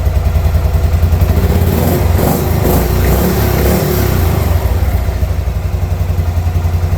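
A Buell Blast motorcycle engine runs after a repair, giving a loud, close, continuous throbbing drone with a slight swell of revs partway through and no talking.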